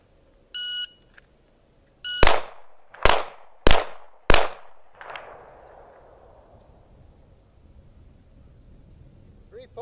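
A shot timer beeps once, then four pistol shots crack in quick succession during timed shooting practice, each loud and sharp with a ringing decay, followed by quiet.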